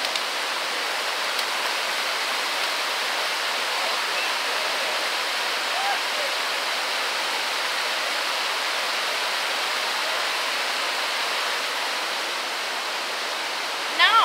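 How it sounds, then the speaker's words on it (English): Cold water of an Appalachian river rushes in a dense, unbroken roar, steady and near for the whole stretch, with only a faint bump at the very end. "Appalachian River."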